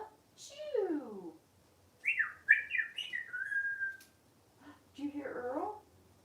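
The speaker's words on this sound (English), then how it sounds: "Earl's trying to whistle back at you, Percy Percy" Several short chirpy whistles and warbling bird calls in separate bursts, close by, with quiet gaps between them.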